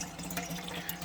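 Water runs steadily from a tap at an unfinished outdoor camp kitchen in the mountains, a continuous splashing, trickling stream close by with no talk.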